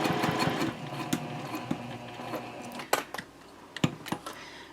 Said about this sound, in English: And then you'll sew around the curve.